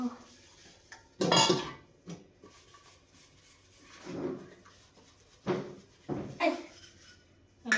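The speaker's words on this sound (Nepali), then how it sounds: "3 माना खाइयो, भाँडा धुनु पर्यो।" Dishes, pots and plates are being washed by hand, giving scattered clinks, clatters and scrubbing rubs in irregular bursts, some loud and close, with quieter pauses between.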